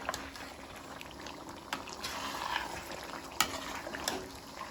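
A masala of onion, yogurt, poppy seeds and grated coconut roasts in a pot for kadhao gosht, sizzling softly with a few sharp clinks of a spoon against the pan, and no speech.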